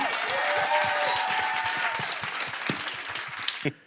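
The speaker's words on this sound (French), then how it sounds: "On les applaudit, on les applaudit." A live audience at a French comedy show claps and cheers loudly and steadily, the sustained applause fading over the last seconds before a couple of sharp final claps.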